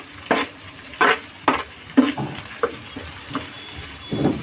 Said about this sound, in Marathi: आता चांगला आपण परतून घ्यायचा आहे कढीपत्ता, मिरची